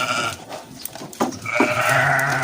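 Sheep penned in a farm enclosure in Saudi Arabia bleat several times, loud and close, over a constant background of rustling and shuffling animals.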